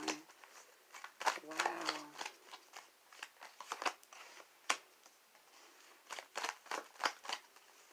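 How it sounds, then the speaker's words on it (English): Tarot cards being shuffled by hand, a quick run of crisp riffling and flicking bursts, soft and close, with a few spoken words mixed in. "And you see how I'm shuffling."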